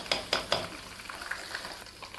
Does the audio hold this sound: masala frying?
yes